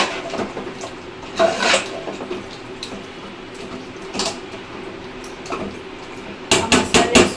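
A spoon scrapes and knocks against a pan as chicken masala with a little added water is stirred, sounding in irregular clatters, with a quick burst of metallic clinks near the end.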